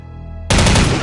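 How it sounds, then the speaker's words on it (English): Dense full-auto fire from the OICW rifle in Soldier of Fortune 2, a loud continuous burst of rapid shots starting abruptly halfway through after a low droning hum, close and alone without voices. "the OICW has single-shot, burst fire, and full auto firing modes"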